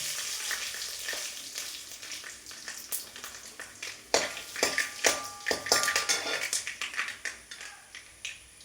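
Mustard seeds and chopped dried red chillies frying in a hot pan for a taro-leaf stir-fry, giving a steady crackling sizzle that turns into sharp popping bursts of seeds in the second half.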